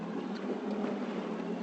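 Boat engine held steady at about 1,000 RPM: a continuous, even low rumble with water and hull noise, faint and unchanging through the short stretch.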